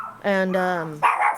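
Dogs barking close by with a yippy, harmonic tone, a few sharp barks running together over a man's speech in a podcast-style setting.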